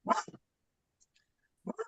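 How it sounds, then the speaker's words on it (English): A dog gives a couple of short, close barks, then after a near-silent gap lets out a few more quick barks, heard in a quiet room during a planning board meeting. "I'm sorry about the dog."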